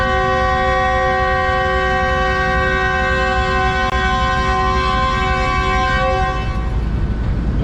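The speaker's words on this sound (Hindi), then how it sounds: "16 डाउन का डिपार्चर हॉर्न सुन लिया आपने" A long, steady train horn blares continuously for several seconds as the train departs, loud and close, fading out at the very end over rail noise.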